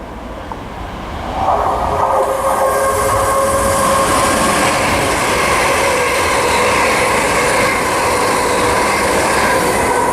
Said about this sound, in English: passing through now is a ScotRail service to Glasgow Queen Street from Edinburgh